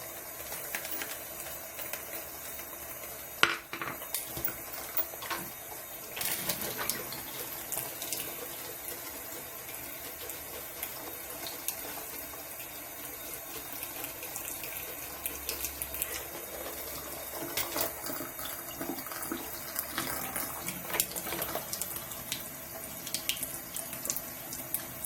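Tap water runs steadily for about 25 seconds as a makeup buffing brush is rinsed under it, a close, continuous splashing hiss into the sink with brief louder bursts and clinks, no voices.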